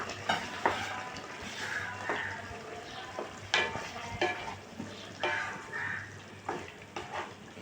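Potatoes fry and sizzle in a pan for chichinga curry as tomatoes go in. A spatula scrapes and stirs in repeated sharp strokes over a steady sizzle, close and alone.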